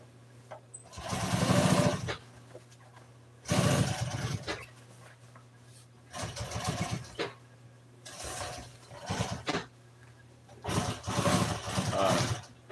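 Sewing machine top stitching an upholstered Polaris seat, running in several loud mechanical bursts of a few seconds each, separated by short quiet pauses, close up.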